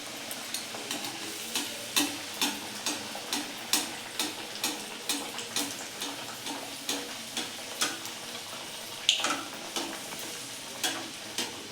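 Potato-stuffed puris fry in hot oil, a soft steady sizzle broken by regular light scraping and stirring strokes about every half second, close and fairly quiet with no talk.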